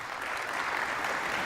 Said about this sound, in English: They're applauding for Hearn because he was a candidate for speaker